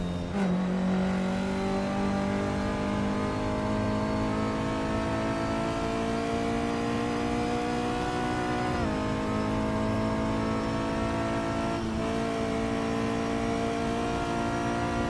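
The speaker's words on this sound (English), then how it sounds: "Up next is the Alfa Romeo Giulia TZ from 1963" A 1963 Alfa Romeo Giulia TZ race car in a racing video game drones loudly and steadily under high revs, its engine pitch rising with gear changes and dipping briefly twice, with no talk.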